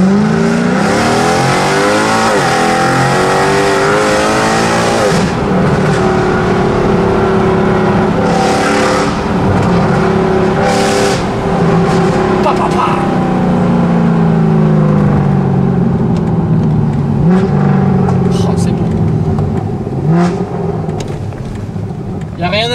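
A Mercedes C63 AMG engine revs loudly and close, climbing and falling in pitch over a deep sustained roar, with voices talking over it.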